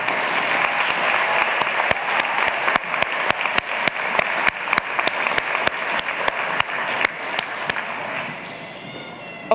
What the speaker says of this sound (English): I think we should give them a big round of applause as well.